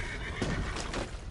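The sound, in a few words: horse neighing in the video game Red Dead Online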